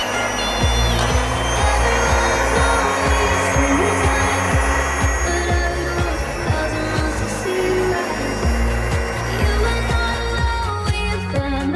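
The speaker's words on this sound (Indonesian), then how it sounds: "Lalu mixer kembali sampai tercampur rata." An electric mixer whirs steadily through sponge cake batter after high-protein flour goes in, a loud continuous motor hum with a rhythmic throbbing pulse from the beaters, running without pause for the whole stretch.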